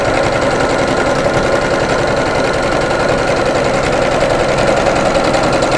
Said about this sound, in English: So I'm going to sew a few, backstitch,